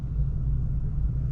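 On an autocross course, a car fitted with new tires gives a steady, close low engine and road rumble with slight swells, and no voices are heard.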